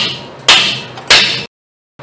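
Two loud metallic hammer blows, a half-second apart, knocking the pinion out of a Ram 1500 9.25-inch rear differential, each ringing briefly before fading, followed by silence.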